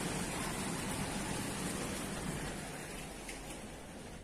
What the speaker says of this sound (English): It just started raining out of the blue.